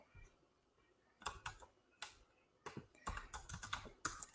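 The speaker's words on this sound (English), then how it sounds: "I'm just typing." Bursts of clicky typing on a computer keyboard, quick irregular key taps grouped into short runs separated by pauses, close and fairly quiet with no talking.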